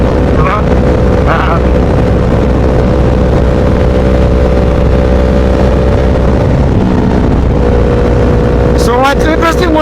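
A Yamaha R1 motorcycle engine drones at low revs in a loud, steady roar with wind buffeting, continuous throughout, with a short rising rev toward the end.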